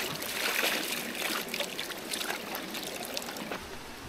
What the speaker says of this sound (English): plenty of water flowing